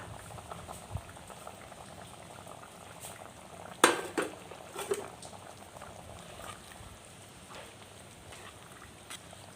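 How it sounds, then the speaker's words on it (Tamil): Ginger chicken gravy simmering in a pot with a little added water gives a soft, continuous bubbling close up, with a few louder pops and a sharp clink partway through. "கொஞ்சமாக தண்ணி சேர்த்து வேக வச்சுக்கலாங்க."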